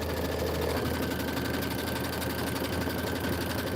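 A sewing machine hums continuously as it stitches through a layered sandwich of mylar and tulle, with a steady, even motor drone and fine rapid needle pulses throughout, close and moderately loud.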